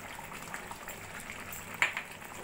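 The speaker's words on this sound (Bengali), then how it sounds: "আরো 3-4 মিনিট মতো রান্না করে নিচ্ছি" A raw papaya curry bubbles and simmers in a pan on a gas stove, a soft, steady sizzle with faint pops, close and quiet.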